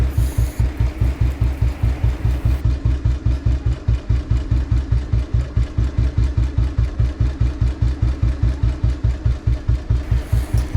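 A houseboat's heavy engine idles close by while docking at Kumarakom, with a steady, rhythmic low thumping that keeps an even pace throughout.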